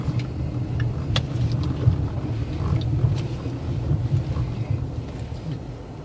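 A car rolls slowly through a residential neighborhood in Retreat, St Thomas, Jamaica, its low steady engine and road rumble heard from inside with some wind buffeting, no talking.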